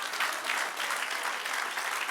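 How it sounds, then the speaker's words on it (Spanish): Steady, dense applause from a church congregation during a class on church history, a continuous crowd of clapping hands at even loudness with no talk heard. "Denle un aplauso al Señor."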